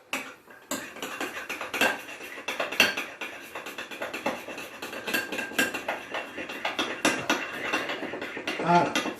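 Utensil clinking and scraping against a bowl while vinaigrette of vinegar and oregano vinegar is stirred, a steady run of light, close taps and scrapes with no talk.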